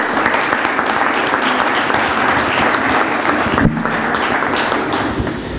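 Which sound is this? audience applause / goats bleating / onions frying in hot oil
audience applause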